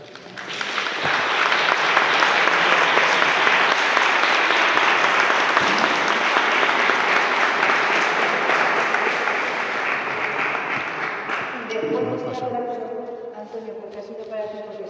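An audience at a parish church book presentation breaks into sustained applause, a dense even roar of clapping that swells, holds for about ten seconds and then fades as voices take over.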